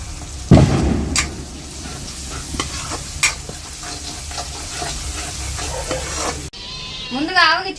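Spices and salt are stirred into chicken in a hot pan for a drumstick chicken curry, producing loud scraping and sizzling with a few knocks, then a brief wavering high cry near the end.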